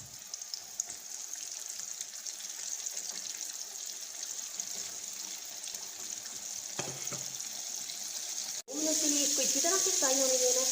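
Fish dropped into hot oil heated over a medium flame, giving a steady close sizzle that cuts out briefly and then returns as a louder, bubblier fry.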